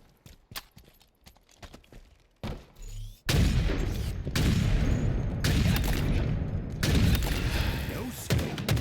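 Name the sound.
gunshots in the video game Counter-Strike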